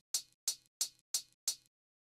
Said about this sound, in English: The next sound we have here is this hi-hat